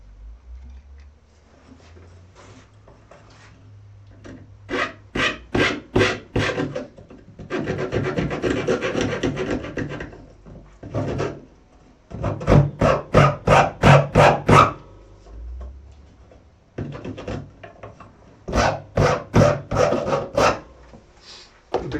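A Shinto rasp files guitar wood in bursts of quick, loud, close strokes, short rapid runs of scraping rasps separated by pauses, with a longer continuous scrape near the middle; no voice is heard.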